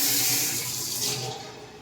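Water runs steadily from a bore-water tap in a home's plumbing setup, a close, continuous splashing rush that fades slightly toward the end, with no one speaking.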